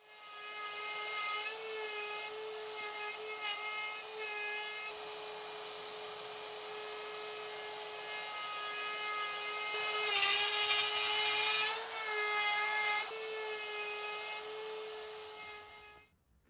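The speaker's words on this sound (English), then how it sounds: "use a router to just go through there" A router spinning at high speed cuts through plywood stuck with double-sided tape to scrap pieces, giving a steady, loud, high-pitched whine that rises and roughens briefly mid-cut before winding down at the end.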